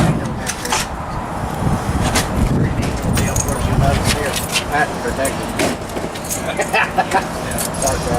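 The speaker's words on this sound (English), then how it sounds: "Your little keys is a 751 key is what locks and unlocks it." A set of small keys for a Coachmen RV's compartment locks jangles and clinks in quick, irregular bursts over a busy, noisy background.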